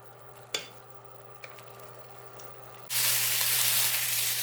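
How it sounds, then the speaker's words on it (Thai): Bamboo shoots stir-fried with oyster sauce and a splash of water, with a few soft clinks of a utensil before a loud, steady sizzle bursts up close and continues to the end. "ผัดจนงวดนะคะทุกคน"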